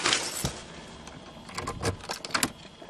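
Keys jangle in short metallic bursts while the right car key is sought among the bunch, with a louder cluster near the start and quicker rattles toward the end, close by and alone.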